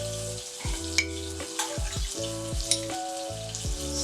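A tablespoon of cooking oil heats in a pan, giving a soft continuous sizzle with occasional sharper pops and clicks, close by and without speech. A steady mechanical hum with stepped pitch changes runs underneath.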